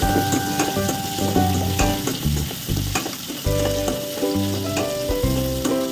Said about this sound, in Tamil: ஒரு 3 பெரிய வெங்காயம் போட்டுக்கேன். இதை வந்து நல்லா வதக்கிக்கணும்